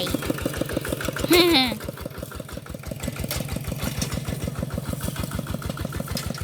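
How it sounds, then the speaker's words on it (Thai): A farm tractor engine (Thai rice-field tractor) chugs steadily at close range in an even, rapid thumping rhythm throughout, with a brief voice or bird-like chirp rising over it early on. "รถไถ"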